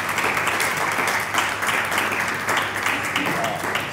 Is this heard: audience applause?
yes